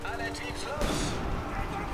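A sharp gunshot-like blast from the video game Homefront cuts in partway through, followed by a lingering rumble, with voices talking throughout.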